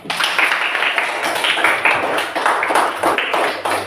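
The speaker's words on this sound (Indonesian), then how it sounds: "Tepuk tangan semua" A classroom of students claps together at their teacher's call, a close, uneven burst of hand claps in irregular pulses lasting a few seconds.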